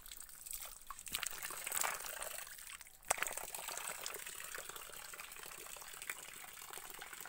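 Cold water pours and trickles in a steady, soft stream at an outdoor spot in the countryside, with one brief louder splash partway through.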